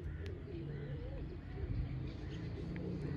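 Pigeons coo in a rooftop loft, low soft burbling calls layered over a steady background hum, fairly faint, with a few thin chirps and faint voices nearby.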